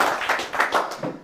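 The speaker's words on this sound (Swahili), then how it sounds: "Wape makofi kwa mwalimu." Short burst of clapping for a teacher at a school journalism club event, a few claps rising and falling unevenly over about a second, fairly close and moderately loud with no talk over it.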